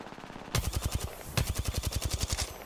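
Rapid automatic gunfire from a shooter video game, two bursts of evenly spaced, loud shots rattling off in quick rhythm with a short gap between them.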